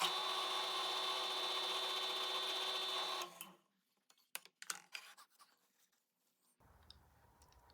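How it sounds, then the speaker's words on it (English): A drill bores an almost 1/8 inch deep hole into a guitar fretboard clamped to a fence, a loud steady whine for about three seconds that stops abruptly, followed by scattered clicks and handling knocks, then a low hum. "I'm drilling almost 1/8 of an inch deep hole."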